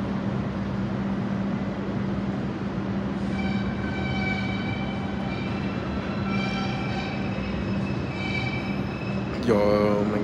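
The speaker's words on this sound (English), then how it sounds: "this train finna been taking forever to arrive." A New York subway train, the 2 or 5 line, pulls into Flatbush Avenue–Brooklyn College station with a steady rumble, a rising metallic whine and wheel squeal near the end.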